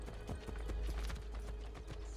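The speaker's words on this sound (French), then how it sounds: "On peut rentrer dedans à cheval maintenant" Horse hooves clip-clop in a steady quick rhythm in Assassin's Creed Brotherhood, close and fairly loud over a low game ambience, continuing throughout with a few faint mechanical clicks.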